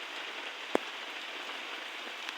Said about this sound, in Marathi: पूर्ण पाऊस पाऊस आणि इकडे बघा किती पाणी साचले